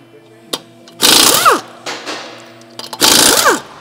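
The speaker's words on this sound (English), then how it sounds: "we're gonna remove the lug nuts and remove the wheels to perform a tire rotation" An impact wrench zips off lug nuts from car wheels during a tire rotation, with two short, loud bursts amid shop noise.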